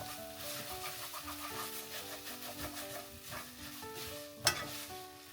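Onions stir and fry in a pot while making homemade curry roux, a steady soft sizzle with scraping and stirring noises and a brief louder clank near the end.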